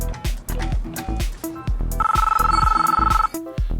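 Electronic telephone ring sound effect: a sustained trilling ring burst in the middle, loud and close, set among punchy rhythmic music beats that run before and after it.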